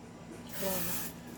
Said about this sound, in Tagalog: then spray tayo rito sa mismong nozzle